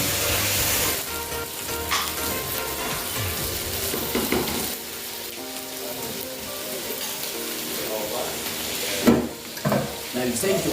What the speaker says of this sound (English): Now the chicken is cooking.